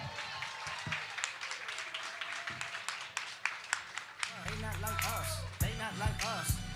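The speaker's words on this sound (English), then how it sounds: "let's give a round of applause" Audience applause and clapping fill the room at a music review show, with cheering voices and louder bursts of sound rising in the second half.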